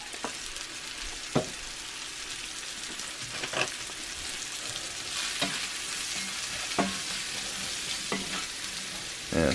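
Mushrooms fry in a cast iron skillet with a steady, close sizzle, punctuated by several sharp scrapes and clacks as they are stirred around the pan.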